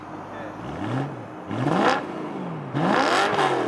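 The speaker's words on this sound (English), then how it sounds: "You guys are gonna hear some V8 revs." BMW M3 V8 revved three times in quick succession, each rev climbing sharply and falling away, heard close by, with a short spoken word just before.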